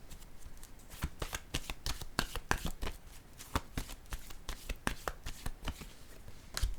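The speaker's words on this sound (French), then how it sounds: "je vais piger une autre carte" A deck of playing cards is shuffled close up, making a rapid run of crisp riffling flutters and snaps that repeats throughout with no talking.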